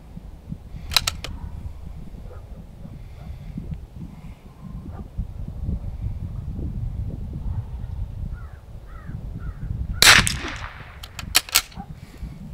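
A single rifle shot fired from a prone rest during positional practice, a sharp loud crack near the ten-second mark, with a few fainter sharp reports and crow caws over outdoor background noise.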